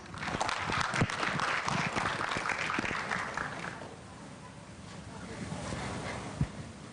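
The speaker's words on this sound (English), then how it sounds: "So please give them a big applause" An audience applauds the guests of a Thai education panel on teacher learning communities, with a full burst of clapping that thins out and dies down halfway through, leaving quiet room noise and a last stray clap.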